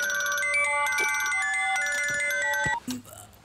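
A bright electronic ringtone melody plays loudly for a few seconds, then cuts off abruptly.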